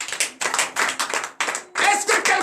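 A congregation at a morning prayer claps in loud, close, rhythmic bursts with brief gaps, voices mixed in among the claps.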